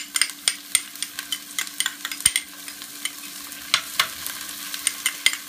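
Vegetables seasoned with vegetable bouillon are stir-fried in a hot pan, giving a continuous close sizzle broken by frequent scraping and tossing clicks from a utensil, with nobody talking.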